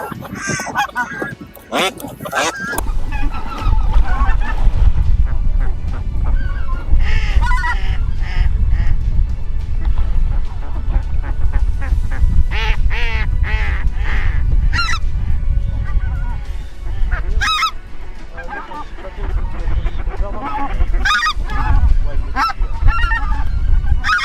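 A flock of greylag geese at Téteghem honks loudly and continuously in overlapping calls, close by, for the whole stretch.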